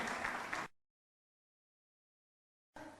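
Audience applause at a motivational talk on universal laws of success, heard as a short burst of clapping that cuts off abruptly into silence and resumes briefly at the end.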